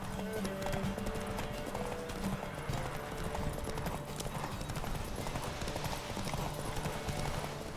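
A horse gallops across open ground in The Witcher 3, its hooves drumming a fast, steady clip-clop without pause from start to finish, loud and close, with faint sustained tones beneath.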